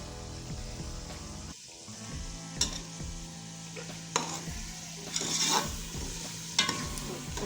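Chicken fries in a pot with powdered spices, tomato and onion for a pumpkin gravy, a steady sizzle broken by repeated scraping stirs and clinks of a spoon, up close.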